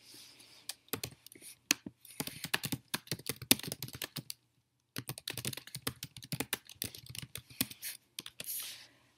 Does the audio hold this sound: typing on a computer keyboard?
yes